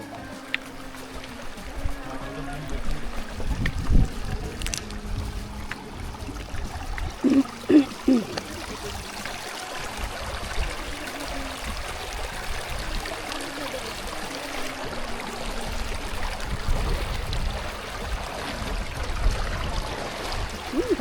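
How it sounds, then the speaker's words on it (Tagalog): A clear-water creek flows and trickles steadily along a mountain hiking trail in Zambales, Philippines, heard as a soft, continuous babble with a few faint splashes. "may madadaanan pa tayong isang sapa. At sobrang linaw din ng tubig nito."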